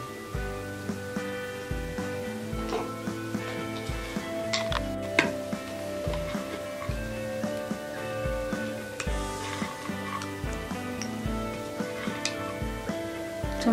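Aval lemon rice with its tempering being mixed in a frying pan, with repeated rhythmic scraping and clinking of a spoon against the pan over a gentle sizzle, close and steady with no talking.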